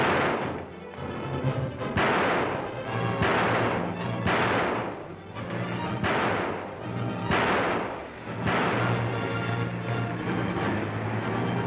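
Heavy repeated blasts in a 1938 movie scene, around eight booming shots spaced every second or so, loud and reverberant, with no talking.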